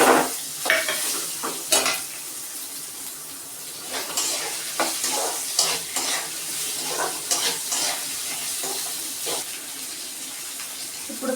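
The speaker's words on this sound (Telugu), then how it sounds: "ఈ బీరకాయ ముక్కలు కూడా వేసుకొని వేద్దాం." Ridge gourd pieces and sesame seeds frying in a pan, with a soft continuous sizzle broken by scraping stirs and clinks of the spatula at irregular intervals.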